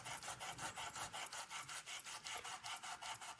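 Rhythmic back-and-forth sanding strokes on embossed metal worked through a stencil, about a dozen even rasping passes close up, steady and alone with no talk.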